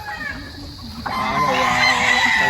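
A rooster crows on a farm, a long rising harmonic call swelling from about a second in, with a softer earlier call and other fowl faintly around it, fairly close and loud.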